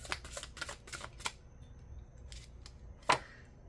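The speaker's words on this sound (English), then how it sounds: "let's pull some tarot cards" Tarot cards being shuffled and pulled, a quick run of crisp riffling flicks and then a few isolated snaps and slaps of cards, close and quiet, with no talking.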